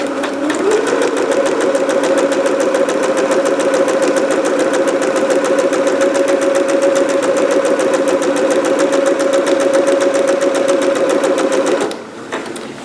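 A sewing machine runs steadily, stitching a 5/8 seam along the V neckline of a green performance gown, with a loud, even motor hum and rapid needle rhythm for about twelve seconds before stopping abruptly.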